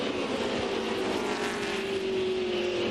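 A NASCAR Winston Cup stock car drones down the straightaway at Martinsville Speedway during the 2001 Old Dominion 500, a steady loud engine roar with a rising tonal whine.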